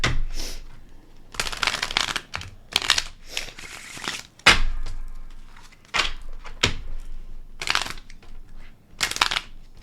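Tarot cards being shuffled by hand in repeated bursts of crisp riffling and slapping, close and fairly loud, with short pauses between shuffles and no talking.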